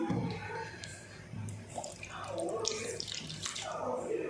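Rinse aid poured into a dishwasher's dispenser, a soft, trickling liquid pour heard close up with faint background noise.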